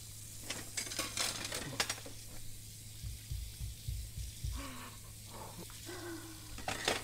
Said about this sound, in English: I'm just gonna keep washing the dishes